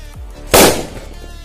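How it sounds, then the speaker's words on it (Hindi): One loud red bijli firecracker explosion inside a big hole, a sudden sharp bang that quickly fades, heard alone against a quiet outdoor background. "पहले हम टेस्ट करेंगे इस वाले रेड बिजली को, तो देखते हैं ये कितना धमाका करता है।"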